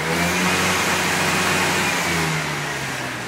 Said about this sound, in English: it hit the rev limiter.